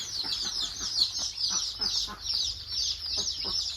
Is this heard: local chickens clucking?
yes